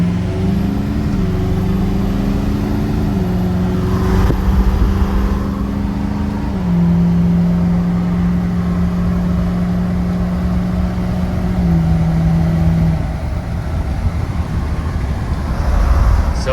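A truck with a freshly rebuilt engine drives off, its close, continuous drone climbing and dropping in pitch as it accelerates through shifts, with no talking.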